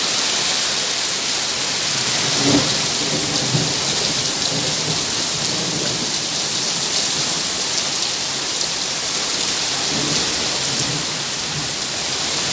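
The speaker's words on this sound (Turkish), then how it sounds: "Nasıl güzel yağmur yağıyor." Steady heavy rainfall hisses continuously while low thunder rumbles roll in the background, with no talking.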